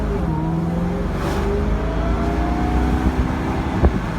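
Inside a 2000 Jaguar XKR convertible on a test drive, the engine gives a steady, loud, deep drone that rises slightly in pitch, with road noise throughout and no speech.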